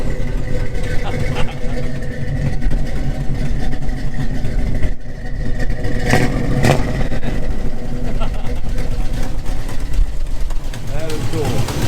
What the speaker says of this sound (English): Oh, that exhaust, I get that leak